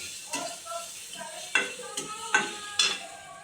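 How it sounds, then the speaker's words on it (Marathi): Salted onion fries in a pan for a bitter gourd dish, with a low sizzle under four or five distinct metallic scrapes and taps of stirring at an irregular pace. "कांदा आळताना थोडंसं मीठ टाकलं ना"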